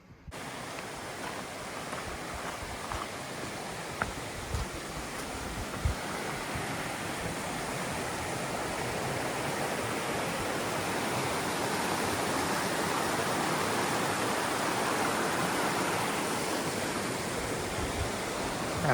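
A steady broadband rush of a stream swollen by rain on the Appalachian Trail in Massachusetts continues without pause and grows slightly louder over time.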